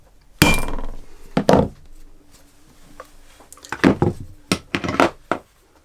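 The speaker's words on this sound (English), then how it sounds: "I'm just going to stamp my maker's mark." A maker's mark stamp is struck with a hammer into leather for an adze cover, giving a handful of sharp, close knocks at irregular intervals with quiet gaps between them.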